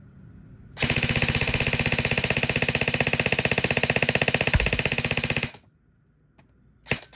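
An E&C HK416 airsoft electric rifle fires a long full-auto burst, a loud rapid mechanical rattle lasting about five seconds before stopping abruptly, followed by a couple of brief clicks.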